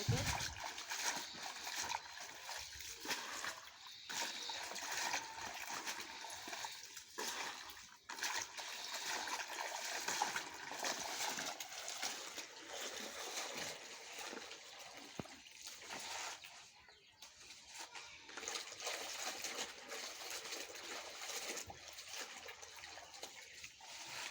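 Taro greens being washed by hand in a bucket of water give off continuous sloshing and splashing, close and fairly loud, with brief pauses between handfuls.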